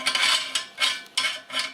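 Metal parts of a KitchenAid mincer, the blade and plate, clink and scrape together four times in quick succession, close and bright, with no talking.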